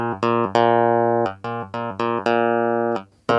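A Hohner Clavinet D6 is played up close in a series of bright, twangy, percussive keyboard notes and chords with sharp attacks and quick damped releases, loud and alone.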